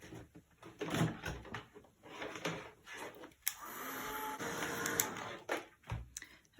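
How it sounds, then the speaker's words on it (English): A heat gun drying painted paper swatches, an intermittent airy whoosh that rises into a steady blowing roar for a couple of seconds between softer handling noises. "use of my heat gun."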